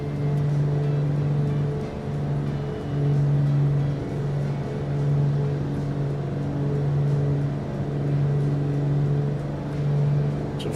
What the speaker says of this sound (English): I'm going to take music down so you can really hear the engines here.